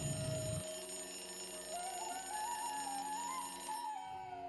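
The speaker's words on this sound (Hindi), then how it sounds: "तभी विमल के फ़ोन पर एक फ़ोन आता है" A mobile phone rings with an incoming call, a soft electronic ringtone melody rising and wavering over a steady hum for several seconds, with no one speaking.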